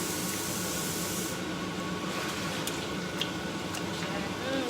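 Mushrooms rinsed under running tap water, a steady broadband hiss of the stream lasting throughout, close and fairly even, with faint clicks and splashes and soft talk underneath.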